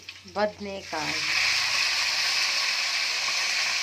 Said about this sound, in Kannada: ಈಗ ಚೆನ್ನಾಗಿ ಬಾಡಿಸ್ತಿದ್ದಾರೆ ಮೇಡಮ್ ಕ್ಯೂರಿ ಅವರು